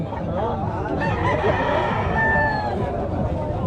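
Roosters crowing and chickens clucking at an open-air chicken market in Lemery, Batangas, a dense, steady chorus of fowl near and far with drawn-out crows rising over the clamor and faint talk mixed in.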